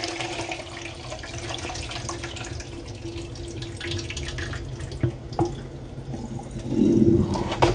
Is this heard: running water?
yes